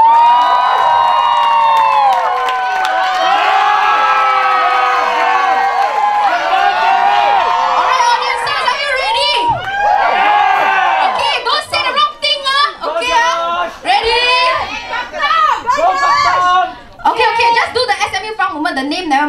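A dance show audience cheers for the dancers with many high children's voices shouting and whooping together, loud and close, thinning into scattered shouts and laughter.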